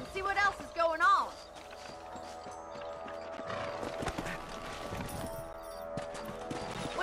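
Rhythmic horse hooves gallop along steadily amid busy game-style background noise in Red Dead Redemption, with a short voice-like burst near the start.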